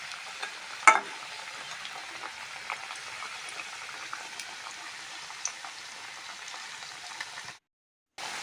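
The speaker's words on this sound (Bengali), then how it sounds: "আরও কিছুক্ষণ আমি এইভাবে লাল করে ভাজা করে নেব" Radish slices fry in oil with a steady, moderate sizzle, broken by one utensil tap near the start, then it cuts briefly to silence.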